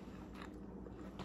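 A crunchy fried Vietnamese spring roll being bitten and chewed up close, giving a soft crackly crunch with a sharper bite at the end over steady low background hum.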